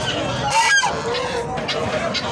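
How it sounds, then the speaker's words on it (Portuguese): A goose honks loudly and nearby at a busy poultry market in Campina Grande, with a few harsh, nasal calls standing out over a steady crowd murmur. "Olha o ganso tá cantando aqui, ó."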